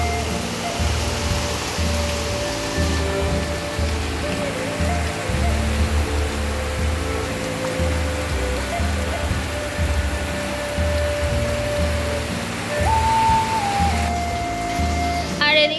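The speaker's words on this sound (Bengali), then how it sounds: "কি জোরে বৃষ্টি হচ্ছে দেখো" Heavy rain pours down in a steady, dense hiss that runs unbroken throughout, with a low background hum and faint tonal sounds beneath it.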